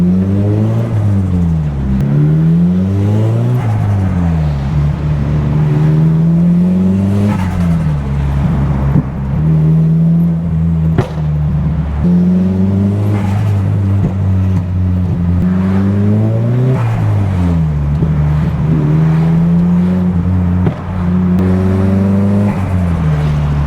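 A Nissan Silvia S15 revs repeatedly while cruising, the engine climbing and falling in steady loud surges, close and continuous with no talk over it.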